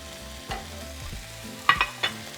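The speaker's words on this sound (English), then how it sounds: "And now we're just going to saute for 3 minutes." Diced onion and jalapeño sauté in a pan with a quiet, steady sizzle, broken by a few soft stirring scrapes and light utensil clinks against the pan.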